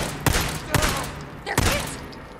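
Three heavy gunshots ring out at roughly even intervals during a firefight in the video game Days Gone on PC, each a loud close blast over a dense background of game combat noise.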